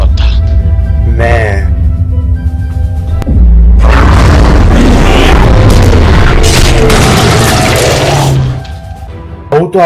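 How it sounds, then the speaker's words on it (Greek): An explosion in an animated dinosaur film comes as a deep, sustained booming rumble that runs for several seconds at high volume under dramatic music and voices. "Πρέπει να σταματήσω αυτή την έκρηξη!"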